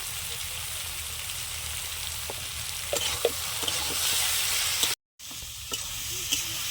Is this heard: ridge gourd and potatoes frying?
yes